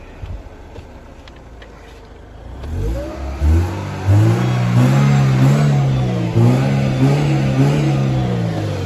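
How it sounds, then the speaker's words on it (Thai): A used automatic car's engine idles quietly, then starts up and revs repeatedly with rising and falling roars, loud and close, holding a steady running rumble. "เสียงเครื่องประมาณนี้เลยครับ"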